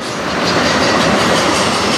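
An NS or CSX freight train rolls past at night in Fostoria, Ohio, a close, loud, steady rumble of railcars with wheel clatter filling the whole stretch, and no voices.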